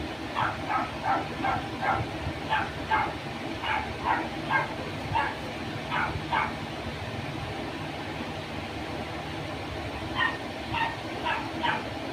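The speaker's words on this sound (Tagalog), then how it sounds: "Ingay ng aso." A dog barks repeatedly in quick bursts at a moderate distance, pausing briefly and then resuming, over a steady background hum.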